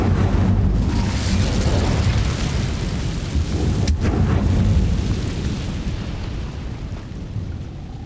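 A fire spell, Incendio, cast in the game Hogwarts Legacy erupts as a loud, dense roaring rumble that fills the whole stretch, with one sharp crackling burst near the middle.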